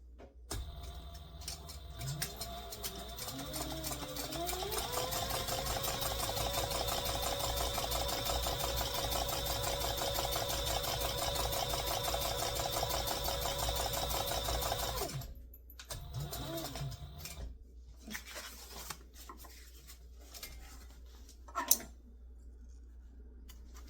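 A sewing machine stitches a bucket bag in a steady, rapid mechanical whir of needle strokes for about fourteen seconds, then stops, leaving quiet handling rustles and a single sharp click.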